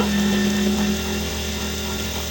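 A sewing machine stitches cloth for a child's sleeveless frock, giving a steady, close motor hum with a faint whine throughout.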